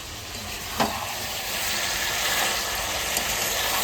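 A spice paste of green chilli, dried chilli, ginger, garlic and cumin sizzles with mutton in a pan, a steady broadband hiss with a brief clink near the start, during a rainy outdoor cooking session.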